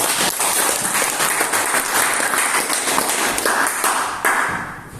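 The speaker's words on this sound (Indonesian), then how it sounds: "Tepuk tangan." Students in a polytechnic lecture session applaud, a loud, dense wash of clapping that holds steady for about five seconds before starting to taper off.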